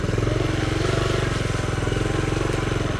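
Small Honda Trail CT70 motorcycle engine pulls hard off-road in the woods, a loud close rapid buzzing thrum that holds steady throughout.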